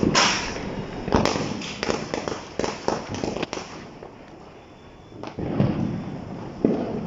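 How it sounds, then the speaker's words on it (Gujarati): Diwali firecrackers burst from all around, with sharp cracks and thuds popping at irregular intervals over a constant crackling din, some close and loud, others farther off. "અહીંયા બેકગ્રાઉન્ડમાંથી ફટાકડાનો અવાજ બધી સાઈડથી ખાલી ફટાકડાનો જ અવાજ આવે છે અત્યારે."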